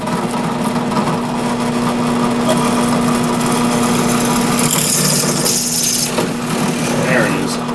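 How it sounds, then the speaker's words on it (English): A drill boring a 1/4 inch hole through a gummy brass rod, a steady machine whine with a constant tone running throughout, rising into a brighter cutting hiss near the end. "Got a 1/4 inch hole drilled in there now."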